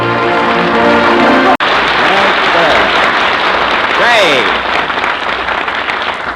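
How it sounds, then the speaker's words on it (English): Studio audience applause swells loudly after a song on a 1938 radio comedy show, dense clapping that mixes with music at the start and then with talk and laughter before fading slightly. "I wonder where all that applause came from"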